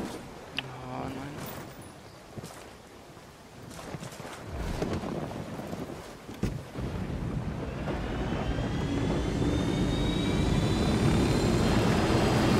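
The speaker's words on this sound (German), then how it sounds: "ich flieg mit dem Heli runter" A steady engine drone with whirring rotor-like hum builds and holds loud as a helicopter flies in the video game Ghost Recon Wildlands, while a voice talks intermittently over it.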